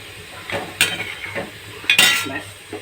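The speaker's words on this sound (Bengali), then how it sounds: "আবার নেড়ে চেড়ে আমি ঢেকে দেবো।" Mutton kala bhuna stirred in a pot: a few quick scrapes and clinks of a metal spoon against the pot over a faint sizzle, close and fairly loud, with no voices.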